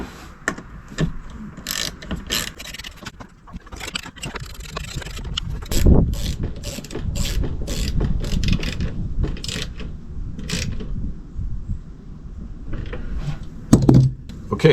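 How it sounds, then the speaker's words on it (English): A ratchet tightening bolts on a tractor's shifter plate, its rapid clicking bursts coming in short repeated runs at close range with pauses and occasional metallic knocks between them. "and now I can tighten them down."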